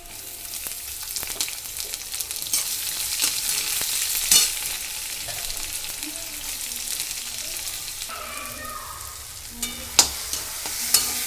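Onion and tomato fry for poha in a pan with a dense, steady sizzle throughout, broken by a few sharper clicks of a spoon near the end.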